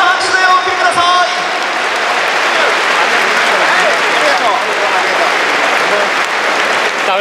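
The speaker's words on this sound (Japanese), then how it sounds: "今一度大きな拍手でお送りください" A large stadium crowd at a Yomiuri Giants baseball game's ceremonial first pitch gives loud, sustained applause, a dense roar of clapping that holds steady throughout, with a voice heard briefly at the start.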